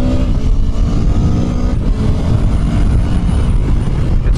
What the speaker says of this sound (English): I'm hoping you can kind of hear through the mic here just the exhaust